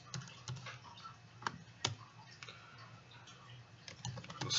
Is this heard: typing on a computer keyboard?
yes